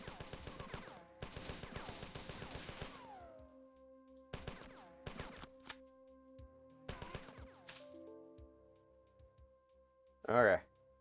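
Gunfire from the Mac video game Marathon, played on real Macintosh hardware: bursts of rapid automatic shots, then a few single reports, with ringing electronic tones between them and a loud sharp blast near the end.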